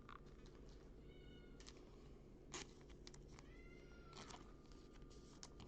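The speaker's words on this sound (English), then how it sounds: "Now my cat's meowing." A cat meows several times, short faint calls spread over a low steady background hum, fairly distant.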